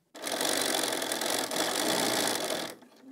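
A sewing machine topstitching the end of a recycled webbing strap for a key chain, running in one close, loud, steady burst for nearly three seconds before stopping abruptly.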